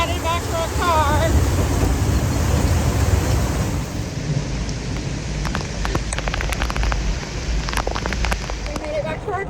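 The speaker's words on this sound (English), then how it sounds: "It's pouring down raining on us." Heavy rain pours down in a dense, steady roar, with louder bursts and rumbling, and a voice briefly heard early on.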